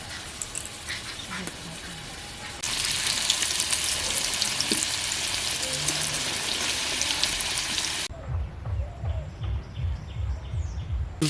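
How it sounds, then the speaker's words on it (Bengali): Potatoes fry in oil in a rustic village kitchen. A loud, steady sizzle holds for several seconds and then gives way to rhythmic handling noises, with no talk. "আলু ভাজা হয়ে গেছে এবার তুলে নেব"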